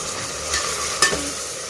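Sliced onions and green chillies sauté in oil with a pinch of salt for a veg biryani, giving a continuous close sizzle broken by a sharp scrape of the spoon stirring the pan.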